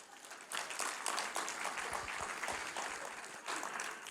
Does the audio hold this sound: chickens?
no